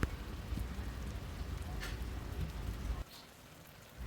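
Moringa (drumstick) leaves, seasoned with salt and a little sugar, fry in a pan with a dense, rain-like crackling sizzle that suddenly drops away after about three seconds, then resumes faintly.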